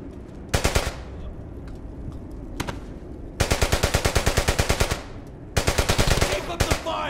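Machine gun fire in Brothers in Arms: Hell's Highway, loud and close, coming as several sustained rapid bursts with short pauses between them and a few single shots toward the end.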